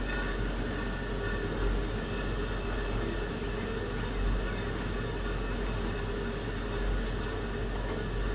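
Train pulling into the upper station in Chattanooga, a steady low rumble and rolling hum filling the scene at constant loudness, with no distinct horn or brake squeal standing out.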